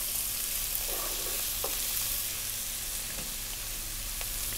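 Onion and fresh chili frying in hot oil for a dry fry mushroom curry, a dense even hiss of sizzling with a few faint stirring knocks, close and steady with no voices.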